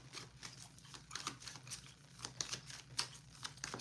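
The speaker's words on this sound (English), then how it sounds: "Let me go ahead and shuffle this." Tarot cards are shuffled close up in quick, uneven bursts of light riffling, slapping and crisp papery rustles, with no talking.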